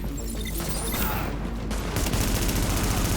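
Dense gunfire from The Division, a sustained fusillade of overlapping shots with continuous loud bursts throughout, under occasional voices.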